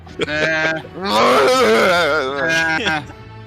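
A man imitates a sheep's bleat with his voice during a tabletop role-playing game session, a wavering nasal baa lasting a few seconds, loud and close.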